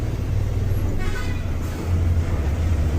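A paddy threshing vehicle runs close by with a constant low engine drone, and a short horn-like toot rises briefly near the middle; no one speaks.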